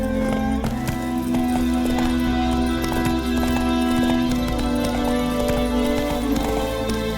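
Hooves of Roach, a horse in The Witcher 3, clop steadily at a gallop, buried under a loud, dense mix of game music and ambience, with a faint whinny.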